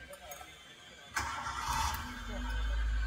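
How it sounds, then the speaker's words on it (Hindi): A Hyundai Santro with an electric power steering kit fitted cranks and starts, a sudden burst settling into a low, steady idle rumble up close, while someone talks over it. "ये देखें गाड़ी स्टार्ट की है"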